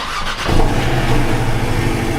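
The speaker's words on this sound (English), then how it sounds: "Oh yeah, the car started!" A Porsche 718 Cayman cranks briefly and fires up, settling into a loud, rumbling idle up close after a winter check, with no voices.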